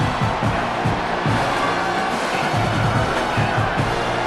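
Large football stadium crowd roaring steadily through a college game between UL Monroe and Michigan at the Big House, a dense continuous wash of cheering with no clear breaks.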